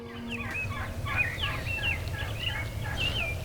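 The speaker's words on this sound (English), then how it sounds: "as you can probably hear in the background, we're watching a bunch of turkeys fly out of a tree right now" Wild turkeys gobble repeatedly from a flock leaving a tree in Nebraska in early April, a rapid overlapping series of calls at moderate distance over a low steady background rumble.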